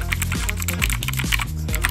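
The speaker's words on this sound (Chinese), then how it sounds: "先来展示一下它的键盘的声音哦，它是属于轻轴，我敲给大家看。" Rapid typing on a Keychron K2 wireless 84-key mechanical keyboard with light switches: close, crisp clacking keystrokes in quick irregular bursts with deeper thocks from bottoming out, and no voices.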